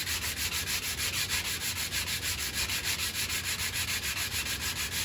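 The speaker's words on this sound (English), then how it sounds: "when I sand this, I'm sanding it with 80 grit to even it out" A wooden picture frame is rubbed with coarse 80 grit sandpaper in a steady, loud back-and-forth rhythm, close and continuous with no pauses.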